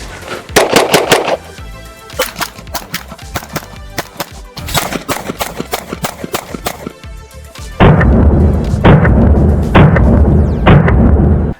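A S&W M&P Shield Plus pistol firing on a range: rapid strings of loud, sharp gunshots in quick bursts with brief gaps, close and dominant, with a denser string of reports near the end.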